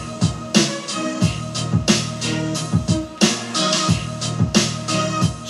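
A hip hop beat at 90 BPM plays on its own, with a punchy kick and snare pulse under a dense, layered sampled texture, loud and steady throughout.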